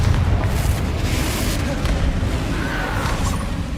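A Confringo fire spell explodes in Hogwarts Legacy with a deep, sustained rumbling boom that rolls on for several seconds at a loud, even level.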